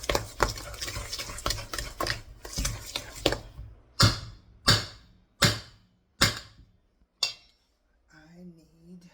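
Cookie mixture for homemade Christmas cookies is stirred in a bowl, dense scraping strokes giving way to a run of separate sharp knocks spaced about a second apart, then a faint voice near the end.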